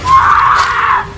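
A single sustained scream, loud and close, drawn out for about a second, recorded at a graveyard among children's graves.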